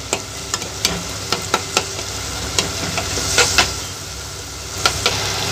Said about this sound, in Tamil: தக்காளி நன்கு வெந்து வருது பாருங்க.